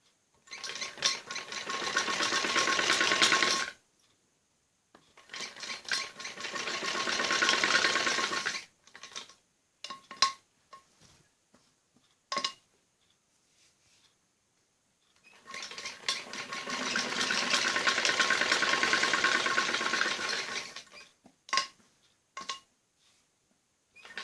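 A sewing machine stitching a kameez neckline runs in several bursts of rapid, steady whirring, some long and some short, separated by quiet pauses and small clicks of handling.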